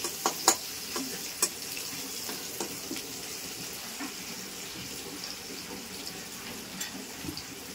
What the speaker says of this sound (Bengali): পেঁয়াজটা একটু ভেজে নেবো আমি লাল লাল করে।